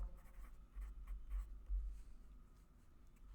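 Pencil scratching and scribbling on paper, quiet close-up strokes in an uneven rhythm of short and longer marks, alone with no talk.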